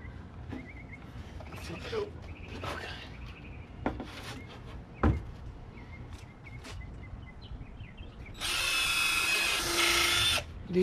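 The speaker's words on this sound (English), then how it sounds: "Just drilling a hole in each one of those." A power drill bores holes into pieces of a wooden birdhouse, a loud broadband whir lasting about two seconds near the end, after scattered handling and tool knocks.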